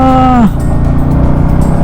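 A single loud cow moo lasting about half a second, followed by steady rumbling road and engine noise.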